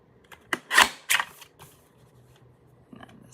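Paper trimmer slicing through cardstock for a card-making project, a few quick, crisp scraping swipes close up, followed by fainter handling noises, with no talking.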